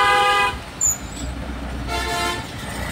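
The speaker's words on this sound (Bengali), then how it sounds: "হর্নের শব্দ হবে" A vehicle horn sounds twice in traffic, a loud tonal toot at the start and another a moment later, over a low road rumble.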